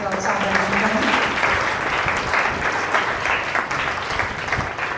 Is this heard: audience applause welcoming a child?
yes